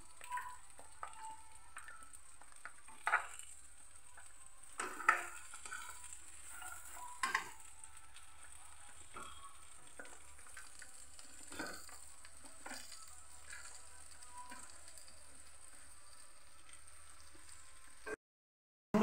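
Mango pickle with jaggery being stirred in a frying pan, a steady soft sizzle running throughout with scattered spoon scrapes and taps, close and fairly quiet, no voices.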